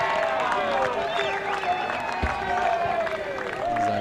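A crowd at an amateur Australian football grand final cheers and claps in a sustained, lively wash of voices and applause, mid-distance, with announcer-style talk running over it.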